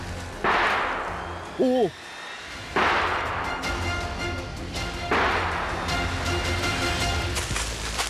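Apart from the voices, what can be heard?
gunshot during a hunt in Japan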